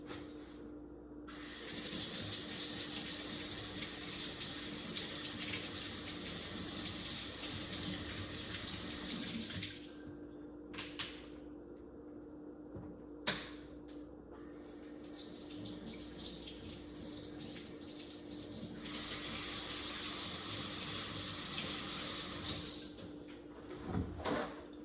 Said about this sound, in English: so I'm gonna wash my hands really quick.